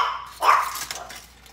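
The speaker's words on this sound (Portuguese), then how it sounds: "Essa é minha cachorra." A female dog in a home kitchen gives a single sharp bark, close and fairly loud, followed by faint quieter sounds and no talking.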